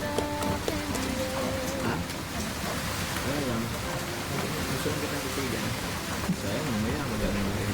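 Steady rain hisses throughout while people talk over it.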